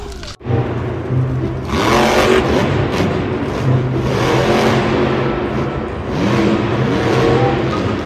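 A toy monster truck's engine revs loudly and steadily for several seconds, with rising and falling whine under a continuous roar, close by and without talk.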